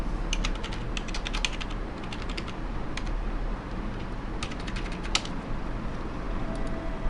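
Keys clatter on a computer keyboard in quick, irregular bursts of close, soft clicks over a low room hum, with no voices.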